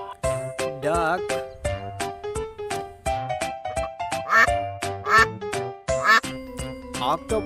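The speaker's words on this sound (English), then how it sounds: "Duck." Loud, close duck quacks repeat in quick bursts of nasal calls, with a few short pauses between groups.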